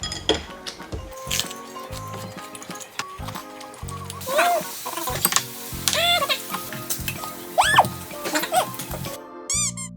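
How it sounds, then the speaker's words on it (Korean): Vegetables are stir-fried in a pan for tomato spaghetti: close, steady sizzling with irregular clinks and scrapes of a utensil stirring against the pan. "요거는 파스타 해 먹으려고 야채 볶는 중"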